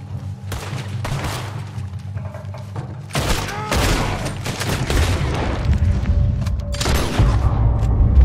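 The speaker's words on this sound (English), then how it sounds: "There's another set of cannons up ahead!" Repeated heavy booms and blasts from cannons in Red Dead Redemption 2, some in quick succession, loud and close over a constant rumbling background.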